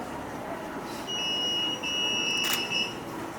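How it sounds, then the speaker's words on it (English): Buzzer on a student science exhibition model of a railway-track animal-collision warning system, emitting a steady electronic tone that sounds alone for about two seconds over a noisy hall, stopping briefly and resuming. "so you can see the buzzer and the light ring up at the same time"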